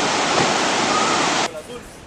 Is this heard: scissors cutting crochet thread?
no